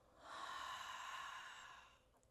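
A slow, soft exhale through the nose during diaphragmatic belly breathing, one steady breath lasting about two seconds, quiet and close.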